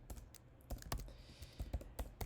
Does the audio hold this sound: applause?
no